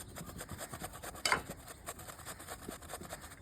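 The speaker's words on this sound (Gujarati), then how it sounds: "હવે થોડી થોડી ઉકારવા આવી જો એટલે આપણે એમાં સફરજન છીણી નાખવાનું છે અંદર" An apple is grated over a pot of boiling tea, giving a soft, steady rasping rub in quick repeated strokes with one brief louder scrape partway through, heard close but faint.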